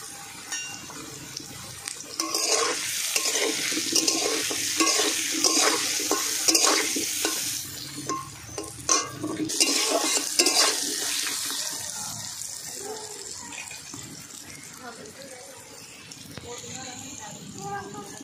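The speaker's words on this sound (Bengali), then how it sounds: "আলু ভাজা হয়ে গেছে" Potatoes seasoned with salt, turmeric and slit green chilli fry and get stirred in a pan, rhythmic scraping strokes over a bubbling sizzle, close up, with some voices in the background.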